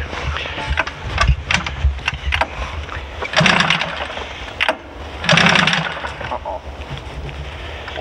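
Modified Polaris Pro XR 800 snowmobile two-stroke engine running, a raspy buzzing idle that swells in two short revving bursts before settling back, heard nearby with no talk.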